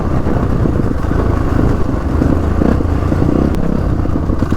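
A Crossfire 450RR dirt bike rides an off-road trail, its engine droning loud and continuous at close range with rough clattering throughout.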